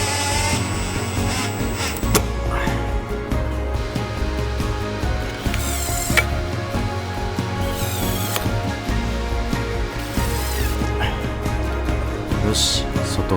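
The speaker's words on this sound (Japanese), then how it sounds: "ダクトカバーにもコーキングをして ビス止めをしていきます。" A power tool drives screws into a caulked duct cover on a tiny one-tatami cabin mounted on a kei truck, with repeated short whirring bursts over a busy background of knocks and handling noise.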